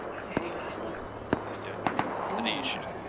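Sharp, punchy gunshots from a video game fire in a few scattered single bursts, two of them close together, over a low steady background with quiet talk.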